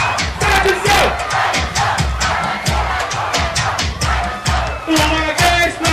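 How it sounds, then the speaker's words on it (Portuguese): A large crowd of Flamengo fans chanting and shouting together at a funk concert, loud and close, with rhythmic collective yells rising and falling over a pulsing low beat. "Agora eu quero ouvir o grito da torcida flamenguista."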